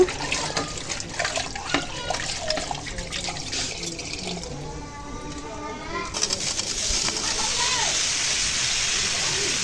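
Vegetables are rinsed under running water, first with sloshing and splashing, then a steady gush from a tap, while pigeons coo nearby and a voice is faintly heard.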